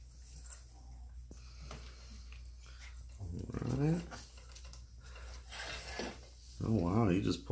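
French Bulldog puppy dragging its food bowl across the floor while trying to eat big-dog food, producing scraping, rubbing rasps in short bursts, with people talking in a cheerful, close voice over it.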